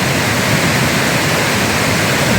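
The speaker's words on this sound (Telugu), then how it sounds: "నీళ్ళు సాగుతూనే ఉంటాయి" Water flowing through reeds in a stream makes a dense, continuous rushing roar, loud and close. It is steady and unbroken, like a small waterfall, with no voices.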